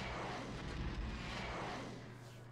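A Y-wing squadron's engines in Star Wars Empire at War hum as a steady, fairly quiet droning roar that swells slightly and fades toward the end, with no voices over it.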